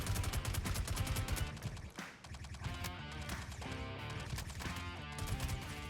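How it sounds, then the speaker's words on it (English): Enemy gunfire crackles in a sci-fi combat video game, with rapid overlapping shots and bursts sounding loud and continuous throughout, no talk over it. "And we start coming under enemy fire."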